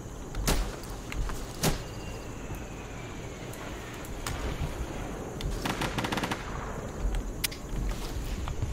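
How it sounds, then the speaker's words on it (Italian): Gunfire in the video game Insurgency: a few sharp shots ring out early, then a burst of rapid cracks near the six-second mark over a steady ambient hiss. "Cazzo, sparano."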